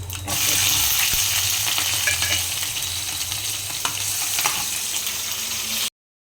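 Onion and green chili hit hot oil already toasting cumin and mustard seeds, bursting into a loud, steady sizzle with a few scattered crackles and spatula scrapes, close up, with no talking.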